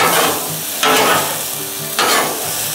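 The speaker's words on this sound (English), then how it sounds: "Stir fry is a quick dish. It is fast and furious." Chicken stir-fry sizzles loudly on a Blackstone griddle, a close, steady hiss punctuated by two bursts of stirring and scraping, with no talking.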